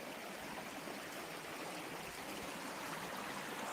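A stream of running water out in the wild gives a steady, full rushing wash that stays even throughout, fairly close, with no voices over it.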